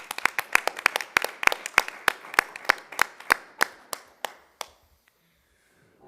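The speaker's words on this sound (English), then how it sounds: "let's give them a round of applause." A small group claps at a school board meeting, a sparse burst of individual hand claps that thins out and stops after about five seconds.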